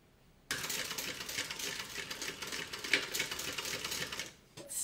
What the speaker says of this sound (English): And then I'm going to stitch right down the center.